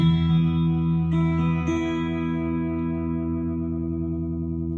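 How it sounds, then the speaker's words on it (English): A sustained guitar chord rings out through a Vox-style spring reverb on a LittleRiverCustoms Ecto1 Octameter pedal, its tone shifting partway, then decaying slowly in a shimmering wash. "it still has kind of a spring reverb. Like a Vox style."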